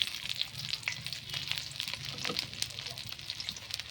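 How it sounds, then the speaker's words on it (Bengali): Chopped onion and sliced chillies stir-fry in oil for a shrimp bhuna, giving a dense, continuous crackling sizzle close by, broken by small spattering pops and light stirring scrapes. No one talks. "দিয়ে একটু নাড়াচাড়া করে ভেজে নেব"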